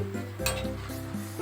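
Spinach pakoras fry in hot oil while being stirred, a steady close sizzle broken by a few light scrapes and clinks of the spoon against the pan.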